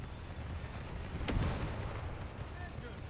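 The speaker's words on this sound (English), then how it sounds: "That island isn't quite high enough to defend us from 5-inch gunfire" 5-inch naval gunfire in the War Thunder naval battle game, with one sharp boom rising from a constant low rumble of the ship and sea, and a softer thump shortly after.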